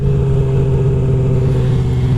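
A motorcycle engine in first gear, held on the throttle for a power wheelie, drones loud and steady with a strong constant hum, close and without talk.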